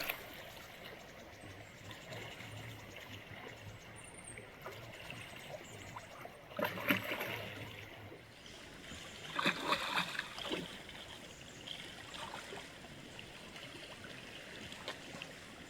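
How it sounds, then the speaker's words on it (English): A salmon creek in British Columbia flows with a soft, steady rushing and trickling of water, heard faint and at a distance, with a few louder splashy surges partway through and no talking. "I've never actually seen a salmon-filled creek before."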